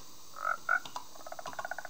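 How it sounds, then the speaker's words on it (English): Green frog in the Minecraft 1.19 snapshot making short croaks, two longer calls followed by a run of quick rhythmic chirps, close and alone with no talking. "We have a green frog."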